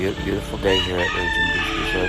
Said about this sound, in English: you can probably hear the roosters crowing.